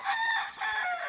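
A gamefowl rooster crows on a farm, a short loud nearby call in two connected parts, with no talk.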